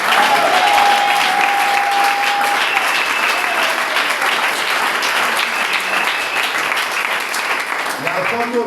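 A congregation at a church service claps loudly and continuously in dense, sustained applause, close and full, with a few voices mixed in.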